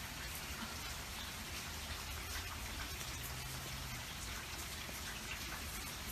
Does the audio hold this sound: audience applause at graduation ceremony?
no